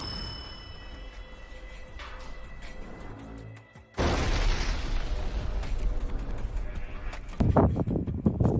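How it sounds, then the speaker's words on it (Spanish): An artillery shot strikes a Ukrainian mortar position, a sudden heavy blast breaking in over faint background noise, followed by sustained rumbling and another loud burst near the end. "Primero la artillería lanzó un potente disparo sobre la ubicación."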